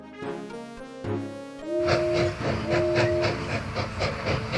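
A steam train chugs along with a rhythmic puffing beat, its whistle sounding in long tones over the rolling clatter.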